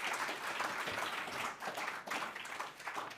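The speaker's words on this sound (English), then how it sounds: "big round of applause for our whāia, and homai te pakipaki, Professor Tāne Ka-ai." Audience applause for a professor at a Māori research symposium, steady and dense throughout, with no pause and no talk over it.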